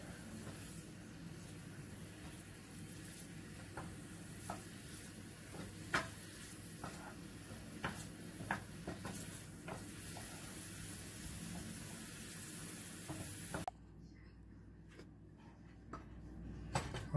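Onions sizzle softly in a pan for an egg omelet, a faint steady hiss with scattered small pops and occasional stirring clicks, fairly distant and low, cutting out near the end.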